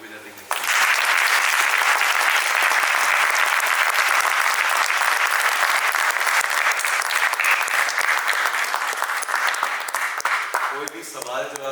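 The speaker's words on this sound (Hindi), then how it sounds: "एक बार ताली बजा देंगे।" Loud, sustained audience applause from a large crowd filling the room for about ten seconds, then fading as a voice begins speaking.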